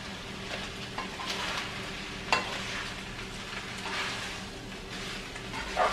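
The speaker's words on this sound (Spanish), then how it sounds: "Un medio sofrito lo estoy haciendo." A half sofrito for tamales frying and being stirred in a pan, with a steady close sizzle and occasional scraping clinks of a utensil, alone without talk.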